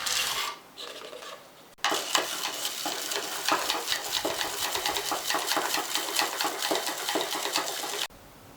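Caustic soda is stirred into water to dissolve it for soap making, giving a continuous scraping, rasping swirl of about six seconds that starts abruptly, stops abruptly, and is heard close and alone.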